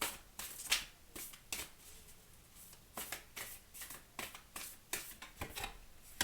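Oracle cards being shuffled by hand, close and quiet, with a run of quick riffling bursts and short pauses between them.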